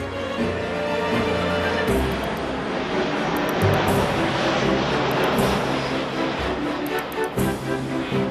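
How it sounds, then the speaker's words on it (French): An aircraft flies low over houses just after takeoff. Its engines make a loud, steady roar with a broad rushing whine that fills the whole stretch without pause. "Le décollage, c'est affreusement bruyant, mais il y en a souvent qui passent en dessus de nos maisons"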